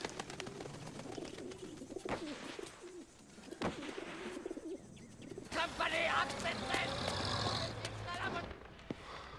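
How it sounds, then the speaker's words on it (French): A British carrier pigeon coos softly in a wartime film scene, low murmuring calls mixed with rustling and background noise while people speak nearby. "C'est un brave pigeon voyageur britannique."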